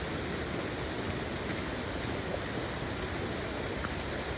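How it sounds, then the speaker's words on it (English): Waterfall fed by heavy rain pouring over rocks and debris beside a road, a steady, dense rushing roar that stays constant and fairly loud with no other sounds. "Another waterfall."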